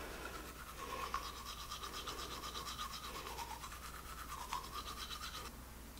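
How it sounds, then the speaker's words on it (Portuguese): A toothbrush scrubs teeth coated in a homemade whitening mixture, steady close-up back-and-forth strokes, quiet and continuous with no talking. "Então, ó, gente, feita a misturinha, vamos escovar."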